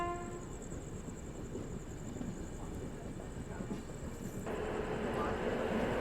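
The Azad Hind Express, hauled by a WAP 7 electric locomotive, departs Bhusawal station, a steady rumble of rolling coaches with a sustained horn-like tone at the start and a heavier rush building near the end, heard from the platform.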